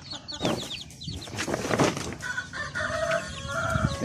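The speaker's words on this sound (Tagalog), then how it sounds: "Ito naman po yung mga sisiyo natin ngayong buwan ng February." Native chickens and newly hatched chicks in a farm coop, with a rooster crowing, hens clucking and high chick peeps overlapping continuously, close and fairly loud throughout.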